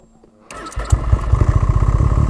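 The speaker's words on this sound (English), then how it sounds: "There's the blow-off valve." Turbocharged snowmobile on a stock muffler, silent at first, then a sudden engine burst settling into a loud, rapid pulsing exhaust throb up close; no distinct blow-off valve whoosh stands out.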